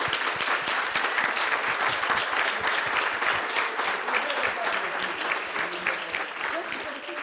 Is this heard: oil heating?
no